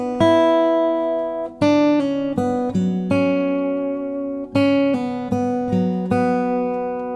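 Electric guitar plays the melody part of a song, a series of clear picked notes with spaces and sustained tones in between, played alone and close up.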